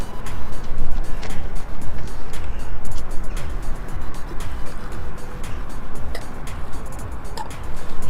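A 1/8 scale nitro short course RC truck engine runs at half throttle during break-in, on its fourth tank of fuel, giving a continuous loud, buzzing, slightly fluttering drone recorded up close.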